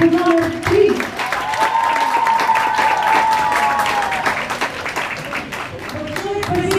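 An audience at the Miss Festival Primorsko 2017 beauty pageant applauds a contestant with sustained, lively clapping for several seconds, a steady tone ringing underneath.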